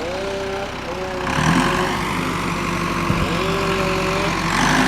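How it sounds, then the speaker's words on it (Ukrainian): A tractor hauls logs in a forest during illegal logging, its engine droning steadily at a low, rough pitch with shifting tones and a few clunks, heard from moderate distance. "От трактор тягне."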